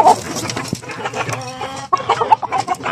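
Chickens cluck and murmur close by, a busy run of short clucks and squawks from several birds.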